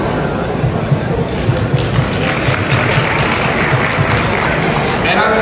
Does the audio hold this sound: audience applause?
yes